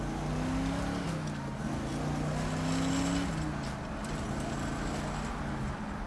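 A 1964 Chevrolet Impala SS engine accelerates in first gear from inside the cabin, its steady, rising hum climbing in pitch before it levels off, close and continuous.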